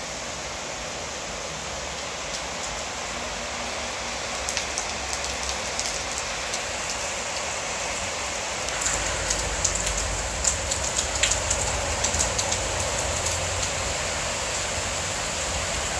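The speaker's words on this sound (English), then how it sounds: "Ooh, it's raining hard." Heavy rain pouring down in Merida, Mexico, a dense, loud, unbroken hiss with scattered close drips and splashes, steady throughout with no talk.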